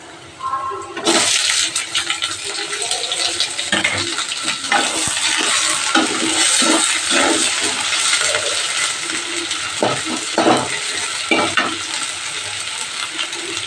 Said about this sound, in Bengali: এবার আমি এই যে চিংড়ি মাছটা দিয়ে দেবো।